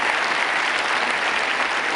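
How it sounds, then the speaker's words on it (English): Audience applause at a public science lecture on quantum physics, a short, even burst of many hands clapping in a hall. "Great hand of applause for my guinea pigs."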